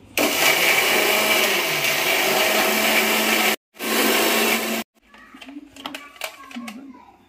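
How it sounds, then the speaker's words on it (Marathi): A kitchen mixer grinder whirs loudly while grinding ginger, garlic, onion and tomato into a paste, running steadily for several seconds, briefly stopping, then restarting before cutting off as voices talk in the background. "आता हे ग्राइंड करून पेस्ट करायची का?"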